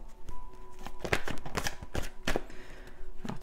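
A deck of oracle cards shuffled by hand at close range, with a run of sharp riffling slaps and flutters that come in quick bursts and then trail off, with no speech over them.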